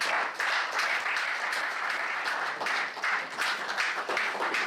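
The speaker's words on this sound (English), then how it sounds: "Ladies and gentlemen, please a round of applause for the one and only Dr. Stephen Akintayo" An audience at a real estate book launch dinner applauds warmly, a continuous wash of many hands clapping with no talking.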